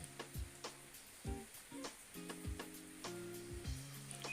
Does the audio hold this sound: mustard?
yes